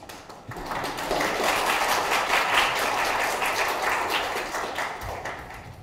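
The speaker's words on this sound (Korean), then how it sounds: "특별히 많은 박수를 부탁드리겠습니다" Applause from an audience at a Korea University KU-KIST graduate school entrance ceremony, a steady wash of many hands clapping that swells after a soft start and holds for several seconds before easing slightly.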